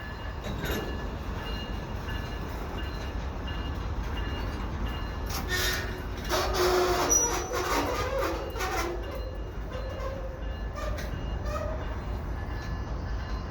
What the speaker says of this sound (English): So bonus CN train